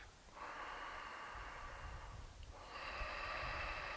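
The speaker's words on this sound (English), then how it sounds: "Now this is called ujjayi breathing, or ocean sounding breath." Ujjayi yoga breathing with a gently constricted throat makes an ocean-like hiss, one long breath, a brief gap near the middle, then the next breath, close and even.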